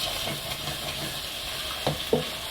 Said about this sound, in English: now we're going to let this fry off for a few minutes